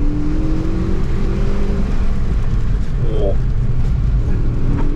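A car accelerating hard on a rain-hit autocross course, with a loud steady engine drone and road roar heard close from inside the cabin and a brief rising whine, as a voice briefly exclaims over it.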